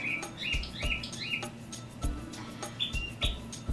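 Birds chirp outdoors in short, bright bursts of two or three quick notes, moderately faint, heard through a room alongside soft taps and thuds, with no talking.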